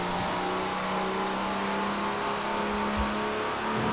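Mini buggy car engine in the Forza Horizon 4 racing game revs steadily with a loud, continuous whine and throaty drone, steady throughout with a faint thump near the end and no talk.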